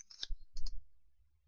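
A computer mouse gives a couple of quick, close, dry clicks about half a second apart in a quiet room.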